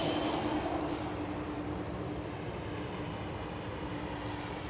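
An Atlas Air Boeing 747 taxis very close by at Schiphol airport, with a loud, steady broadband jet-engine roar and a constant low whine that hold evenly throughout, without any talking.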